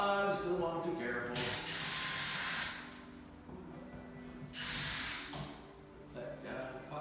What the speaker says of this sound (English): this is what I like my drill for right here